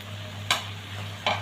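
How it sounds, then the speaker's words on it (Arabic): Bell peppers for chicken fajita are stirred in a sizzling frying pan, with a steady frying hiss and a few quick scraping strokes up close. "بعد ما ضفنا الفلفل هنقلبهم مع بعض"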